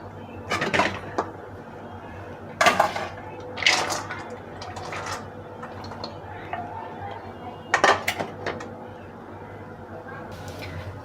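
Raw papaya pieces dropped into a metal wok for boiling in a home kitchen, with a few distinct clattering bursts of pieces and utensil knocks against the pan over a low steady background hum.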